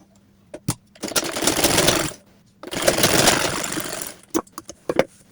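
A sewing machine runs a second line of stitching over a salwar seam in two sustained bursts, with sharp clicks of the mechanism before, between and after.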